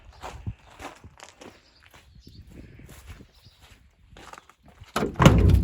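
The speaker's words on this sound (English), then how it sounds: "This door actually opens and closes pretty nice." The door of a 1969 Chevy C40 truck, an old junkyard rescue, is opened and closed, with scattered light clunks and rattles building to a loud, close final slam.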